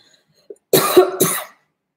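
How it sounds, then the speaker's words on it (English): A person coughs during a live acrylic painting session, a short burst of two or three close, fairly loud coughs after a brief throat sound, with no talking around them. "Cough."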